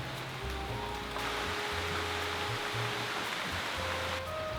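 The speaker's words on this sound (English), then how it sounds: "I think the rain, this gentle rain, is good for the plants" Steady, soft patter of gentle rain falling on garden plants with a constant wash of noise and faint low rumbling underneath, with no voices.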